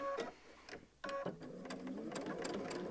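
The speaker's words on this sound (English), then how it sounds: "we're going to stitch our 1/4 inch seam allowance right there" A sewing machine stitches a quarter-inch seam in short, rapid bursts with a brief pause between runs, its mechanical whir close and clear.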